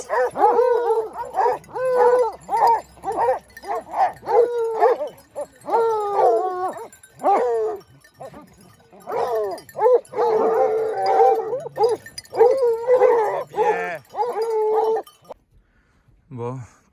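Hunting dogs on a hunt in Corrèze bark, yelp and howl together close by in a steady, overlapping chorus that lasts throughout and fades out at the end.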